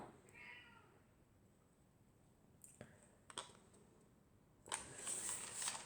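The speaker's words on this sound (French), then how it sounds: "Si vous entendez miauler, c'est mon chat qui miaule de désespoir" A pet cat meows faintly indoors during a quiet colouring session, with a brief soft meow near the start, a few small clicks, and a louder hissy burst at the end.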